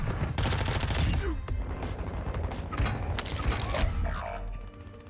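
Heavy gunfire in Warzone 2, with sustained bursts of automatic shots, crashes and booms layered loudly throughout before tapering off near the end.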